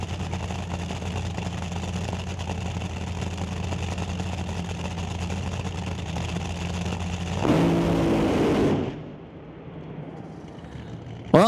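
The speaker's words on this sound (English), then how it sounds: "So here we go, the Darkside Racing Top Fuel dragster." Darkside Racing Top Fuel dragster at a drag strip, a steady loud engine drone that surges into a brief, harsher roar before cutting away to quieter background noise.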